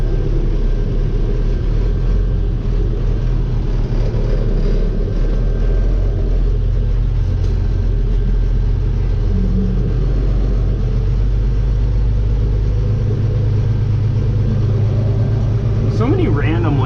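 A truck rumbles steadily along toward a landscaping job site, with a low, continuous engine drone and road noise filling the cab, and a brief rising whine near the end.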